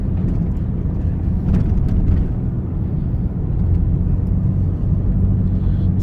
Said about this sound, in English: So as you can hear, when this car actually fires up, it actually runs pretty half decently.